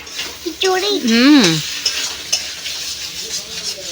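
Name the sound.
egg omelette frying in a pan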